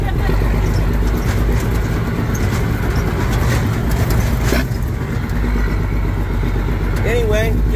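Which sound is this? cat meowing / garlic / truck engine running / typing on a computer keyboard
truck engine running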